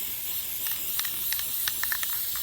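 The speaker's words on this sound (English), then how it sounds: "next I'm going to spray paint the jack-o'-lantern orange" Spray paint hisses from an aerosol can onto a Dollar Tree jack-o'-lantern for a Halloween wreath, a faint steady hiss broken by several short, sharper spurts close to the microphone.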